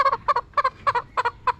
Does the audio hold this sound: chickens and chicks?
yes